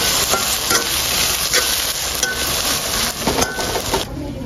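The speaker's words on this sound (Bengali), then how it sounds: "সব কিছু আর কিছুক্ষণ ভেজে নেব।" Green chillies sizzle and fry with prawn masala in a pan, a steady loud crackle with scraping stir strokes and faint utensil clinks throughout.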